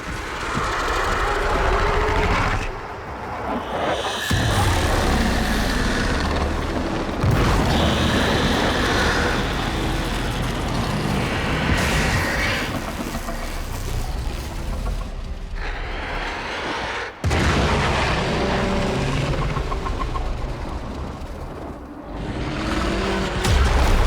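An explosion in the video game Warframe brings a loud, sustained rumbling roar with sudden booming surges, a heavy wash of noise that continues for over twenty seconds.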